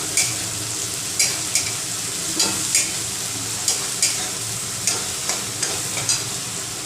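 Garlic and ginger sauté in a pan for a quick Maharashtrian upma, with a constant close sizzle broken by sharp, regular scrapes of a spatula about every half second.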